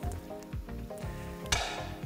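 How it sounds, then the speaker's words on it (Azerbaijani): Butter sizzles in a cauldron over an open fire while paxla plov is prepared, a continuous crackling fry with a louder hiss flaring near the end. "Kərə yağını əlavə edirəm qazana."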